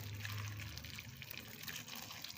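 Hot water pours steadily into a container with a soft, continuous trickling splash, close by and fairly quiet.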